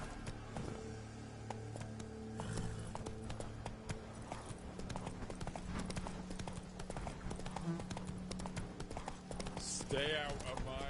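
Roach, the horse in The Witcher, trots with rhythmic clip-clopping hooves under game music and ambient sound, with speech and brief vocal sounds overlapping near the end.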